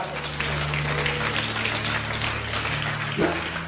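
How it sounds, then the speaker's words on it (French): A church congregation claps continuously and fairly loudly, a low sustained tone humming beneath the applause. "Applaudissez Jésus, alléluia"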